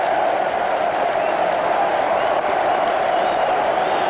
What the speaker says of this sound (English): There was a little bit of a cheer went round the ground there.